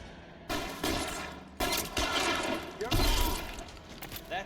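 Gunfire in the video game L.A. Noire, several loud bursts and shots arriving in clusters with sharp onsets, over a steady game backdrop with some voice-like activity.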